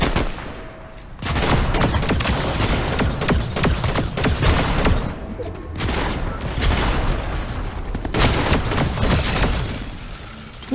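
Heavy gunfire in the video game Fortnite, long loud stretches of rapid shots and impacts broken by brief lulls, close and continuous, with a faint voice now and then.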